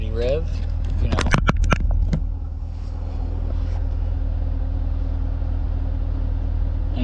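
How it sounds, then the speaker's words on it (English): A Chevrolet Corvette C7 Grand Sport engine in sport mode blips loudly in a few sharp revs over a steady idle rumble, then settles back to idling; a voice speaks during the revs. "we do a little revity rev"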